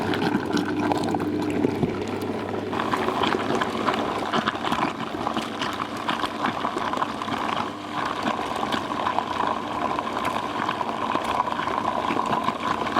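Water poured into a homemade burley mix, a steady broadband wash of pouring and churning that runs continuously and fairly loud without pause.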